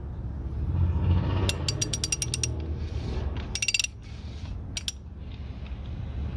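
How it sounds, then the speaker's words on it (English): An oil filter wrench turns an oil filter counterclockwise on a 2017 Mercedes-Benz GLE, giving close, sharp ratcheting clicks in quick bursts over a low mechanical rumble. "oil wrench and just rotate it counterclockwise"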